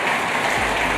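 A short, dense burst of audience clapping for a speaker at a business congress, a loud even patter like rain with no voices over it.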